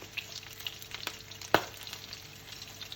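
Stir-frying in fish oil released from cooked fish plus a spoonful of added oil, with a steady soft sizzle, a few faint scrapes and one sharp clack of a utensil against the pan, no talking.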